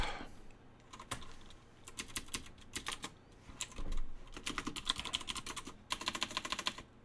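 Computer keyboard keys clatter in quick irregular bursts with short pauses between runs, close and fairly quiet, with no voice over the typing.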